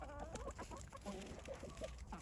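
A chicken on a snowy farm on a frosty day gives soft, brief clucks, faint and close, over quiet outdoor ambience.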